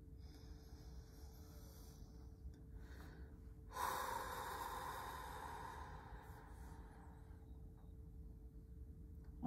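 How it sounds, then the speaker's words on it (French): A single deep breath in during a guided mantra session, a clear, close, sustained inhalation rising abruptly and then fading slowly over several seconds, set against quiet room hiss. "Inspire profondément."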